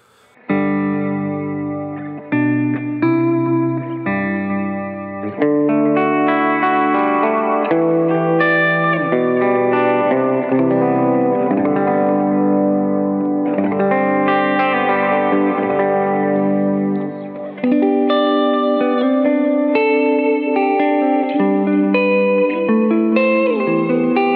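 Clean ambient electric guitar through a pedalboard with LVL, Brigadier and Mercury 7 effects, playing sustained chords and melodic notes with lush reverb and a little texture, steady and fairly loud throughout with no talking.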